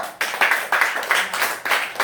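A class of pupils claps hands together in unison, a rhythmic series of about seven sharp group claps in a steady beat, close and loud in a classroom.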